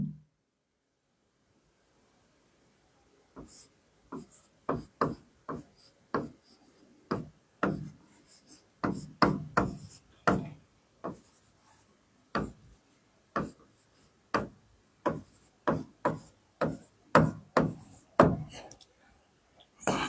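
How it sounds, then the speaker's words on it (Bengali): Handwriting during a physics class on reflection of light, with a pen or marker making a long run of rapid, scratchy strokes and taps, close and fairly clear after about three seconds of near silence, with no talking. "আমি আগে সম্পূর্ণটা লিখবো"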